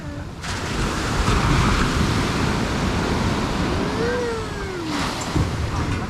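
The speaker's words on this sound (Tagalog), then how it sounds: "Ito ang lakas ng alon." Loud, steady roar of ocean surf crashing nearby at Sabang Beach, Baler, Aurora, with wind noise, a continuous wash of breaking waves.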